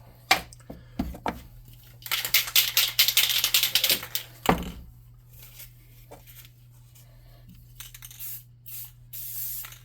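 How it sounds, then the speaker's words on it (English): Clear coat sprayed from an aerosol can onto a painted model unicorn figure, a couple of close hissing bursts amid handling clicks and rattles, with a quiet room between them. "So first I'm going to hit this with a clear coat, just to make sure that paint sticks to it well."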